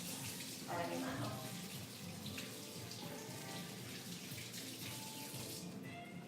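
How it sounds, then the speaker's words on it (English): Tap water runs steadily into a kitchen sink while hands are rinsed, a continuous hiss with faint splashes and background voices. "Rinse my hand."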